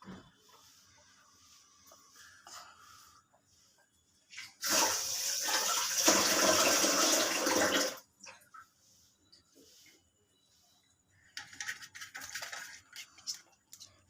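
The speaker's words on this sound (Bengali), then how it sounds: "তেল ঢেলে দিলাম, বেশি করে তেল দিয়ে দিলাম।" Cooking oil poured generously into a pan for sago pakoda, a broad rushing pour lasting about three seconds in the middle, with quieter kitchen clatter before and after.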